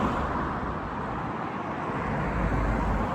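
Steady roar of traffic on a busy city road in Norwich, a continuous broadband wash of passing cars with no distinct individual vehicles standing out and no talk over it.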